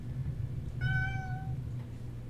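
A domestic cat gives one drawn-out, plaintive meow at moderate distance. It sits over a steady low background hum.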